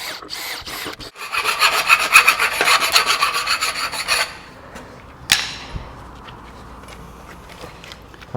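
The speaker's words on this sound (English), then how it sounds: "cut this piece of conduit there." A hand saw cuts through a piece of electrical conduit during an industrial electrical installation, with a run of loud, rapid rasping strokes close by, then a sharp clack as the cut finishes and a quiet handling noise afterwards.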